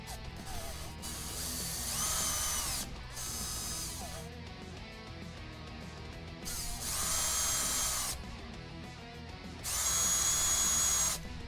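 A power drill unscrews the four screws holding the gate on an arcade stick, with three separate whirring bursts of a few seconds each and quiet pauses between them, nearby and fairly soft, with no talk.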